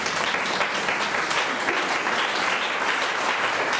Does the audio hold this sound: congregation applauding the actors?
yes